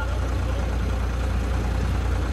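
A tractor engine idles with a steady low, throbbing rumble, loud and close, constant throughout with no voices.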